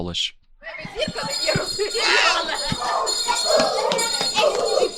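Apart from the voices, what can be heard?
hand-rung school bell at Ukrainian school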